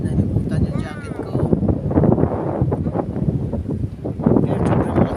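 Strong seaside wind buffets the microphone in continuous rough gusts, loud and close, while a person talks over it.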